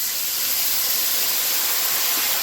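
Water poured into hot frying spices (salt, turmeric and cumin powder) for a Bengali dal, giving a steady, loud hiss and steam sizzle that holds evenly throughout, close up with no talk.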